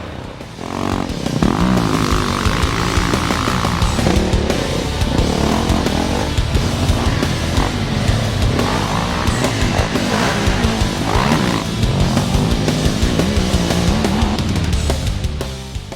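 A 2010 Kawasaki KX250F dirt bike engine runs steadily and loudly throughout, with a continuous rasping motocross drone and shifting pitch as the rider works the throttle on hilly terrain.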